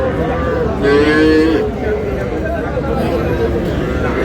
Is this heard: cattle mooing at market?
yes